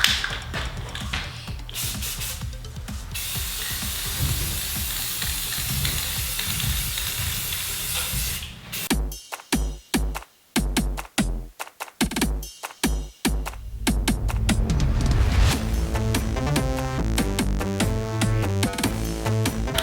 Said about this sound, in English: Now it's time to hit it with this antique brass metallic paint.